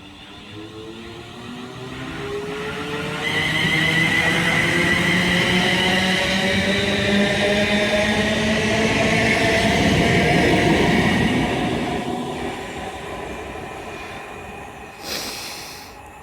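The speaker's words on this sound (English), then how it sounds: "the 1336 Birmingham New Street service is ready to depart" A train departs past a trackside spot on the West Coast Main Line at Hartford, rising from a low rumble into a loud, sustained roar with rising tonal whines, then easing away toward the end.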